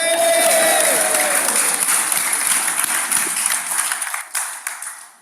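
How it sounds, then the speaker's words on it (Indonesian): A church congregation at an Indonesian worship service breaks into loud, dense applause that carries on steadily and then tapers into scattered claps at the end. "Tepuk tangan."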